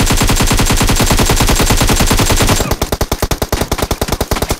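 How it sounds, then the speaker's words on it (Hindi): Loud, close automatic gunfire from a battle royale game, a fast continuous burst of rapid shots that shifts partway through into slightly spaced, punchy rounds of cover fire. "इसके टीममेट ने जबरदस्त कवर फायर दिया"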